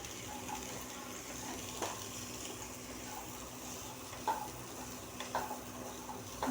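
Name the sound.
oil sizzling in pan before frying onions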